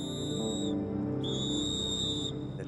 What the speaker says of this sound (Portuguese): Ele até carrega um apito em volta do pescoço,